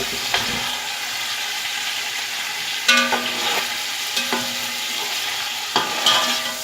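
Loud sizzling of boiled chicken frying in a pan for Afghani pulao, broken by a few sharp clanks and scrapes of a spatula stirring against the metal.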